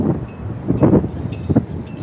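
Gusty wind buffeting the microphone in low rumbling bursts, a few stronger puffs rising and fading.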